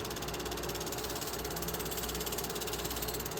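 Southern 4501 steam locomotive, filmed from the head end in Danville in 1972, giving a loud, constant mechanical roar with a fast rhythmic chuffing texture and no voices.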